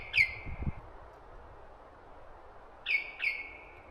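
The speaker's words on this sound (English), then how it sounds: "Listen to that sound of that bird through this forest, just echoing through." Birds calling in an Australian forest about an hour from the city: one bright chirp, then a pair of chirps a few seconds later, moderately faint and echoing over a low, steady rustle.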